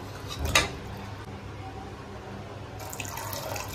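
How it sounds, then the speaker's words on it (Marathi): Water poured into a cooking pot while making vajdi, a short splash followed by a soft continuous trickle, faint and close. "तर थोडं पाणी टाकलं आपण."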